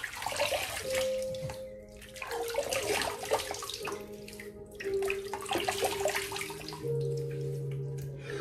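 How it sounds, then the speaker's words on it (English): Running water splashes as it is scooped onto a face before a straight razor shave. Wet, irregular splashes sit over a constant tap flow, with faint music playing in the background. "Let me put some water on my face."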